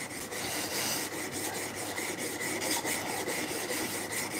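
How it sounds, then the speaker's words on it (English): Continuous close scraping and rubbing as rust is cleaned off the primary bevel of a woodshop chisel during sharpening, a steady rasp with a faint repeated stroke rhythm. "so just cleaned off the primary bevel, so just took off the little rust off the primary bevel"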